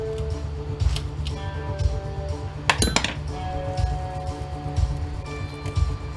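Metal and plastic parts clink and rattle as they are pulled from a scrapped food processor, with scattered close clicks and a sharp burst of clattering midway, heard without talk.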